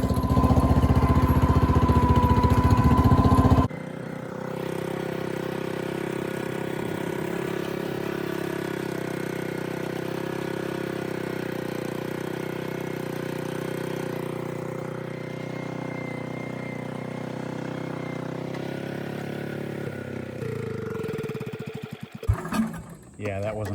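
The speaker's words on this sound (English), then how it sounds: "Yeah, these tractors can pull quite a bit of weight." A Power King garden tractor engine labors steadily while pulling a trailer loaded with about 3,000 pounds of top soil up a small hill, a continuous mid-pitched drone that is louder at first and then holds even, with no talk over it.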